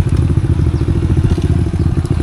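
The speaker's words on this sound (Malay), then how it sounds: "Okay, motor Cikgu Wei ada masalah sikit." A loud motorcycle engine running close by after water got into it, a steady low rumble with rapid rhythmic pulsing and some clattering on top.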